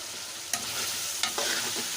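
Ground spices, red chilli, turmeric, garam masala, dried coriander and cumin, sizzle softly in a pan while being stirred, with a few scraping clicks of the spoon over the steady frying hiss.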